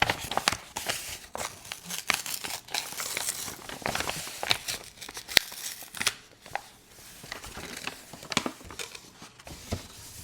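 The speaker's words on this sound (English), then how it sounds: "open this bag." Up close and quiet, a bag is torn open with a long run of crisp crinkling, rustling and tearing bursts. The sound comes in uneven handfuls with brief pauses between them.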